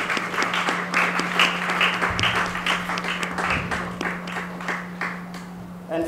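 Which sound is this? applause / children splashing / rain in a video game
applause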